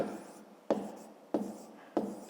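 Pen strokes on paper during a fifth-grade math lesson: four sharp scratchy bursts, each fading quickly, at a slow regular pace, close by with no talking over them.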